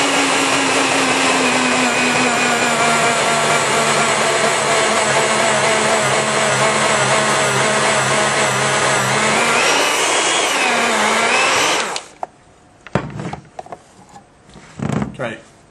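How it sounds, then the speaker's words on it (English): A Morphy Richards 240 watt food slicer grates cheese: a loud, steady motor whir that holds for about twelve seconds, dips in pitch near the end, then cuts off, followed by a few quieter clunks and handling noises. "Okay, so that grated that cheese in no time."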